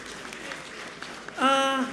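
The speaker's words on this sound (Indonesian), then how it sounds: "kita berikan aplaus dulu untuk segmen yang pertama ini" A studio audience at a televised debate between Aceh gubernatorial candidates breaks into applause near the end, a short burst of clapping following quieter murmuring and a faint voice.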